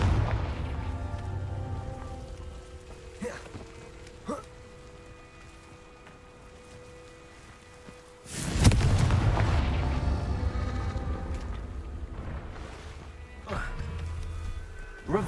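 A Confringo blasting spell explodes in Hogwarts Legacy, a loud sudden boom that swells and rumbles for several seconds before fading, with a few smaller thuds and a low ambient bed around it.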